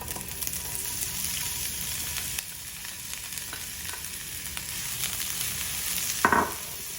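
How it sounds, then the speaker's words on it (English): Chopped onions sauté in a pan for Mexican pork tamales, giving a steady close sizzle and crackle that runs throughout, with a brief clatter of stirring near the end. "we'll saute the onions for a few minutes until they're kind of golden brown"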